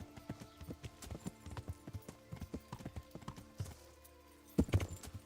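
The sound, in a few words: horse galloping and jumping in video game Kingdom Come Deliverance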